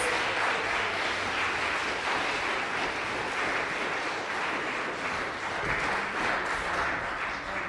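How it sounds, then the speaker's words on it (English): Sustained audience applause for guitar performers fills a church piano recital, steady and dense throughout with no talk over it. "let's hear one more round of applause for the guitars"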